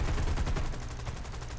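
Cannon fire from a P-400 fighter in the War Thunder combat game, a loud, sustained stream of rapid, evenly spaced heavy bursts that continues for the whole stretch without any voices.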